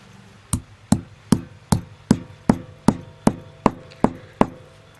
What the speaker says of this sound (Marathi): मिरब्याचं खलबत्त्यात बारीक करून घ्यायचं